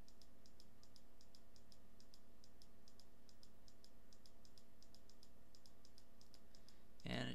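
Steady, evenly spaced mouse clicks on computer tuning buttons repeat many times in a quiet room over a low electronic hum, ending with a brief louder noise.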